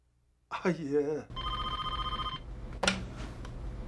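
A telephone rings for an incoming call, with a single steady electronic ring of about a second, set between bursts of talking.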